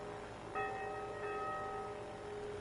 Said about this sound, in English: Church got some bells going, or did just a second ago.